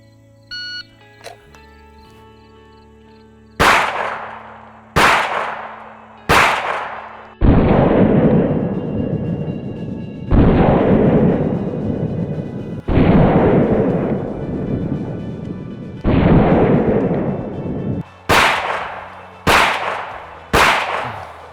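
Ten handgun shots fired in a timed trigger manipulation drill at an NRA B8 target range, loud sharp reports coming in quick pairs and triples with short pauses between groups, no talking over them.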